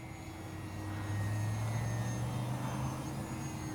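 An E-flite Sportix RC airplane passes overhead with a steady, droning electric motor hum that swells slightly in the middle and then holds, with no voices over it.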